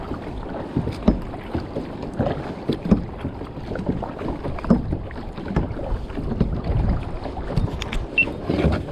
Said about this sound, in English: I'm just gonna start paddling and we'll be trolling bonito and pollito.